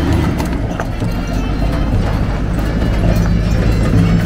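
Several horses' hooves clip-clop steadily and close by as riders arrive at a birthday celebration, with a dense, continuous clatter and outdoor background noise throughout.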